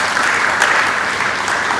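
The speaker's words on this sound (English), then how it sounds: "Please, a round of applause for him." Dense audience applause, steady clapping from many hands throughout the short stretch, loud and close.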